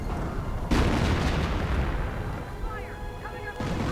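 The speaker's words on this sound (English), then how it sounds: "oh dear, artillery coming in" Heavy artillery shells land in a World War II real-time strategy battle, with a loud deep boom near the start rolling into a long rumble, then smaller blasts and whistling tones, and another impact at the end.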